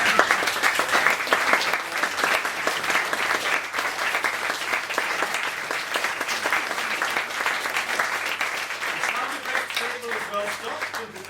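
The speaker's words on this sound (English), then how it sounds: "The applause sign is freshly polished to prompt the audience to the desired reaction at the appropriate moment." Sustained applause from a live studio audience on a sound stage at Rockefeller Plaza in New York City, dense and steady for the whole stretch and fading slightly at the end, with voices faintly audible beneath the clapping.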